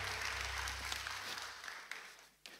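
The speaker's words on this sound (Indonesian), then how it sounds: "Kasih tepuk tangan sekali lagi buat Tuhan" Congregation applause during a Sunday church service at GSJ Bethlehem, a broad wash of clapping over a low hum that gradually thins and fades, ending in a few scattered claps.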